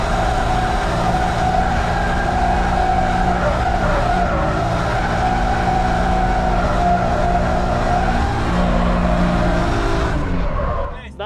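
A car accelerates hard from a standstill, its engine droning loud and steady with tyres skidding throughout before the sound cuts off abruptly.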